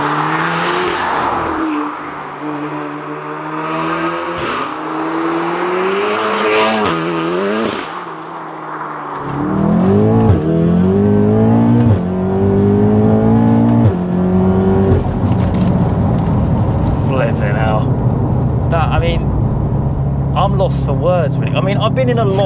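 A 564bhp big-turbo MK7 Volkswagen Golf R on semi-slick tyres accelerates hard, heard from inside the car. The engine note climbs loudly through repeated gear changes and keeps roaring, while people talk over it.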